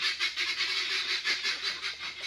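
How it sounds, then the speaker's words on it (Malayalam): A flock of ducks quacks continuously, a dense, rhythmic chorus of overlapping calls nearby. "ഇവിടെ താറാവ് വളർത്തുന്നുണ്ട്"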